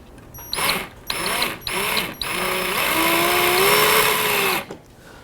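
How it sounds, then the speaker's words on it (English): Power drill driving screws into a ceiling mount, with three short whining bursts followed by a long sustained run whose pitch rises as the screw seats, then the motor stops abruptly; close and loud. "now I'm going to go ahead and pop some screws in there"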